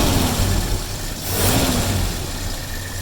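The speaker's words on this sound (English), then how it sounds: "Give it a little gas. See how it'll speed up and go right back down to idle." A Mazda B2000 pickup engine runs close by, its pitch rising as the throttle is blipped and then sinking back to a steady idle, with a continuous low rumble throughout and no speech.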